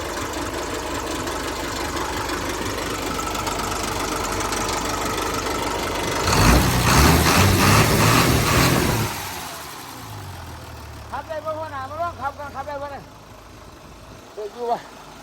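Engine of a Hino KT 925 ten-wheel truck runs steadily, swelling into a louder rev for a few seconds before settling to a lower idle, with someone talking over the end.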